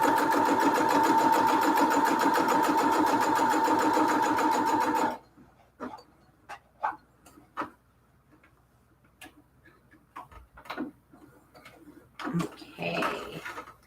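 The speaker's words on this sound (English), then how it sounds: "Just a lot of straight stitching right now." Sewing machine straight-stitching a cathedral window quilt pillow case, running with a fast steady mechanical whir for about five seconds before stopping, followed by scattered clicks and handling sounds.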